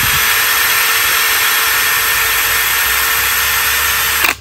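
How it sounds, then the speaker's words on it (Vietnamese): A cordless battery drill from a combo set with an impact driver runs steadily and loudly on its own for about four seconds, a dense continuous whir that cuts off abruptly at the end. "nghe tiếng máy chạy rất là đầm á các anh."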